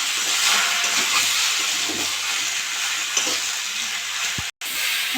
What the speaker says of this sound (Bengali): এবার ভালো করে কষে নেবো মশলার সঙ্গে।